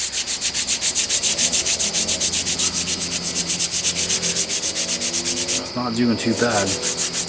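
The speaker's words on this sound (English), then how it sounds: "let me scrub this thing up a little bit, and I'll show you what it looks like all scrubbed up" Steady back-and-forth scrubbing of an old hatchet head after a long vinegar soak, loosening rust with fast, even strokes close to the mic; near the end someone speaks briefly as the scrubbing pauses and then resumes.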